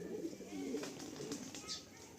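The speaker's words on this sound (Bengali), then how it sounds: "ওইটা ধানা পায়রা আওয়াজ পেলাম।" Pigeon cooing softly, a faint low throaty coo that repeats in short rolls, heard over quiet background murmur and some indistinct voice.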